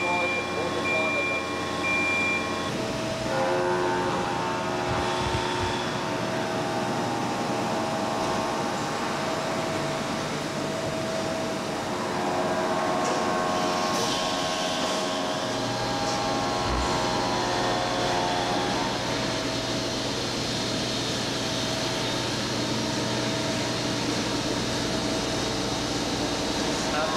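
CNC machine running in the Pietta firearms factory, a steady mechanical hum with tonal whine and occasional clanks, under ongoing talk amid other workshop machinery.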